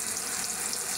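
Onion frying in mustard oil in a pan, a steady close hiss of sizzling with no breaks, short and even, with no talk.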